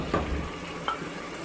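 Stirring pondou with plenty of fat in a pot, two quick scraping stirs over a soft sizzle, close and moderately quiet.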